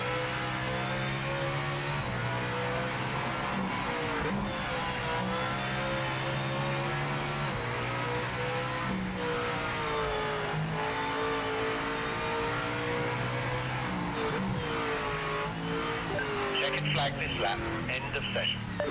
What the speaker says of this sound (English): That sounds like a turbo.